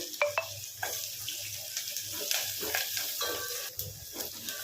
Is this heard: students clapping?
no